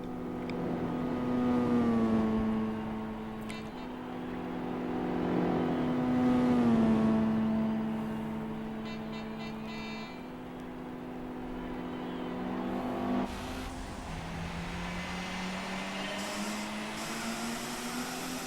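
A car's engine in Gran Turismo 4 running on super soft tires, droning steadily with rising and falling revs and gear shifts, loud and continuous throughout.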